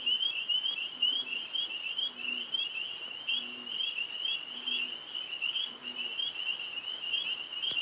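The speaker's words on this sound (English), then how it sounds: "Oh, I hear a bullfrog down in the pond." A bullfrog croaks down in a pond, its deep, short calls repeating about once a second, while tree frogs keep up a steady high chorus throughout at a moderate distance.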